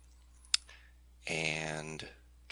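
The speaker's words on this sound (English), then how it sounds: "click on this button" A computer mouse button gives a single sharp, close click while installing an SEO plugin in WordPress; a voice-like passage follows, and another brief click comes at the end.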